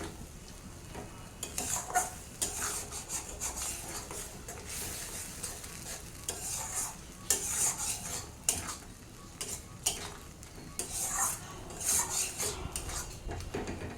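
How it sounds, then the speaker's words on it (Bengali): Spice paste for a kata fish curry sizzles and fries in a pan while a spoon stirs and scrapes it in steady intermittent strokes, close and moderately loud, with no talking. "এইভাবে মশলাটা ভালো করে কষিয়ে নেব।"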